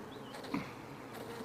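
Honey bees from a strong colony hum softly around an open hive during an inspection, a faint, continuous buzz with no talk.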